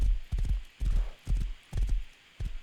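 Horse hooves clip-clopping in the video game Rust, five or six evenly spaced clusters of hoofbeats at a brisk trotting rhythm, close and clear.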